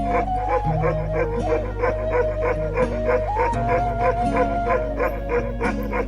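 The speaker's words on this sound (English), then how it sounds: "Just look at the barking of these dogs. How they bark." Himalayan livestock guardian dogs barking and howling loudly and close, with overlapping deep barks and drawn-out howls coming in a steady rhythm and no talk.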